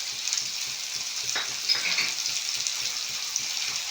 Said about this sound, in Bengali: এবার আমি সব মশলাগুলো আলুর সঙ্গে ভালো করে কষে নেব